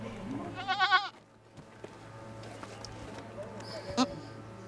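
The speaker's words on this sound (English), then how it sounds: "The farmers have brought their goats for deworming today." Goats brought by farmers to a village deworming day near Mount Kenya bleat close by in a brief, wavering call, then more faintly later, over a low background hum with people talking.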